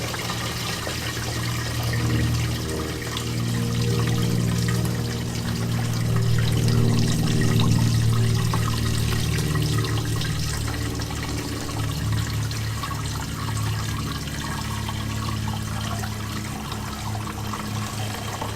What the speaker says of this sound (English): Slowly pour this in.